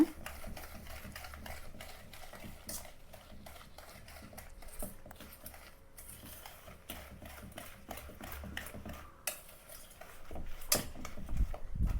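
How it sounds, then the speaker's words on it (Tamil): Powdered sugar being stirred into a mix for rose cookies, giving a soft, steady scraping and clinking of a spoon against a bowl over about twelve seconds, a little busier toward the end. "சர்க்கரை தூள் பண்ணி வச்சுருக்கேன்ல நல்லா கலந்துக்கோங்க"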